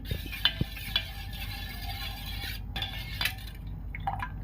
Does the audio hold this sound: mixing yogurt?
yes